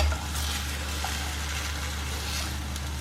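Plantain slices fry in ghee with a steady, close sizzle and soft bubbling, unbroken and with no voices over it.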